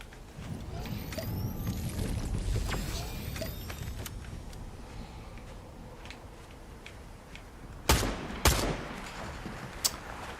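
Sniper shots in a video game: two sharp, loud cracks close together near the end, preceded by a busy rumbling game mix with scattered fainter pops and a voice speaking.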